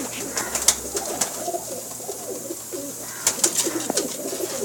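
Banka and Teddy cross pigeons, a breeding pair in a Pakistani loft, coo steadily up close in low rolling phrases, with a few sharp clicks and rustles scattered through.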